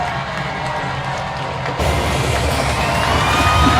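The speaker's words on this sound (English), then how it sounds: "Rush Probst urging the crowd to make some noise" A high school football crowd at Pell City vs Center Point cheers and roars steadily, swelling louder partway through as fans answer a call to make noise before a third-down goal-line play.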